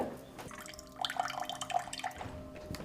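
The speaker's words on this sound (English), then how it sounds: "This is our cold water pressure in the kitchen." Cold water running from a kitchen faucet gives a thin trickle with irregular dripping plinks and a faint tonal hum, close by and moderately quiet.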